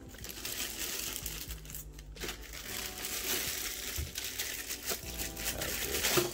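Plastic packaging from an APC Back-UPS unboxing crinkles and crunches continuously at close range, with soft rustling and handling noises throughout and no voice.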